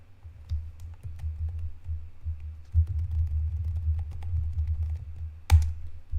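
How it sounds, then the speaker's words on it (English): Someone typing on a computer keyboard, with a run of quick, soft key clicks over a low, rumbling background hum and one sharper tap near the end. "I'm going to type it in here in the chat"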